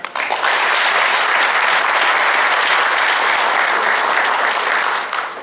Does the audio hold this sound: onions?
no